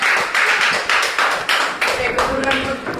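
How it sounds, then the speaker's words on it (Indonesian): A classroom of students claps for a student group that has just presented, a few loose rhythmic claps repeating under some background voices. "terima kasih kepada kelompok 3. Tepuk tangan."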